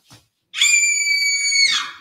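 A person lets out a loud, sustained high-pitched scream lasting over a second, following a brief faint sound and short silence, heard alone without talk.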